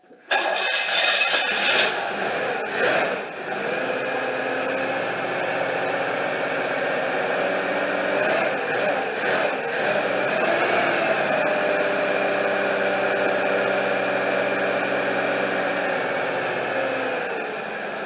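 A 1994 Cadillac DeVille 4.9 engine idles with a steady, even drone that holds level throughout after a brief rough start, close and fairly loud, with a faulty idle motor.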